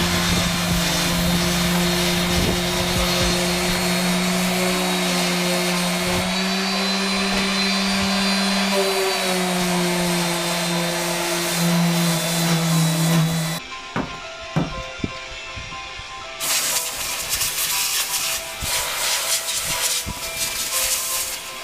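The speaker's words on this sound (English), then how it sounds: "I'll get an 80 grit on that metal, get it cut down there a little bit." Power sander working 80-grit paper over bare metal on a Honda CRX project car: a loud, steady whining drone for about thirteen seconds, then a brief drop with scattered scraping before the grinding roar resumes.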